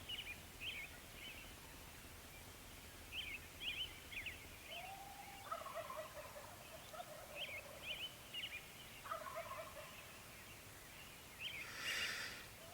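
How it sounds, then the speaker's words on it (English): Several wild turkeys gobble repeatedly from across a canyon in Oregon, overlapping rattling calls carrying over a steady outdoor hiss. "There's a whole lot of turkeys across the canyon"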